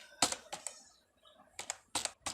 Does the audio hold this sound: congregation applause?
no